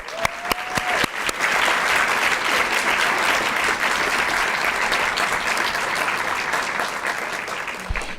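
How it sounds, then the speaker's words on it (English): An audience at a school board recognition meeting breaks into sustained applause after a few scattered early claps, a loud, even roar of many hands that holds steady for several seconds before tapering slightly. "yes, please applaud"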